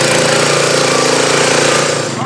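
A racing mud mower's engine runs loud and steady at a mower race, a continuous rough drone with a rapid chattering pulse throughout, close by and dominating, with crowd noise blended underneath.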